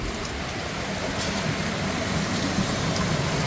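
A rain-swollen monsoon drainage stream in the Dehradun hills rushes loudly and steadily, a dense continuous roar of water with no pauses, heard alone without voices.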